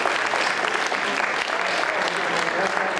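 Audience at a hypnosis show breaks into steady, dense applause, a loud continuous wash of many hands clapping close by with a faint murmur of the crowd underneath.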